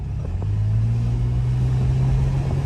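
A 2012 Toyota FJ Cruiser engine hums with a deep, steady drone from inside the cabin, its pitch climbing gradually as the vehicle accelerates.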